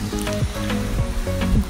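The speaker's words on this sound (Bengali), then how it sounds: "গরম তেলে কুমোর বড়িগুলো সুন্দরভাবে ভেজে নিলাম" Lentil badis (kumor bori) frying in hot oil in a village kitchen, a steady bubbling sizzle with some tonal hum mixed in, continuous and fairly close.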